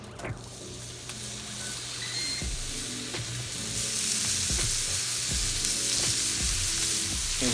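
Burger patties searing on a hot flat top give a loud, continuous sizzle that swells partway through, broken by occasional sharp clicks and scrapes.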